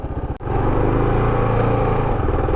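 A Kawasaki KLR650 motorcycle engine idling high and refusing to drop, a loud, close, steady rumbling drone after a brief click.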